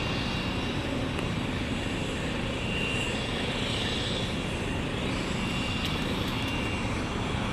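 A STAT medical helicopter lifts off at night in Monaca, its engine and rotor making a loud, continuous, dense roar that holds steady throughout with no talk over it.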